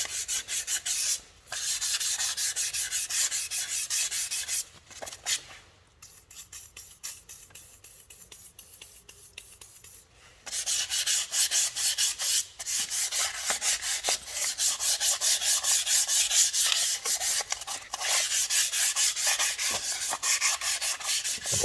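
Rapid back-and-forth rubbing scrapes surface rust off an Akrapovic motorcycle exhaust, a close, steady rasping stroke rhythm broken by a few short pauses.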